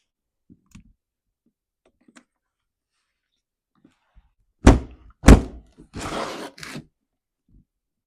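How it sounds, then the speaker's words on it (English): Spark plug coming out of a Stihl MS170 chainsaw: after near silence, two sharp close metallic thunks land about half a second apart, then a short rasping, scraping burst as the plug is worked loose, with faint small clicks before and after. "Let's pull that spark plug out."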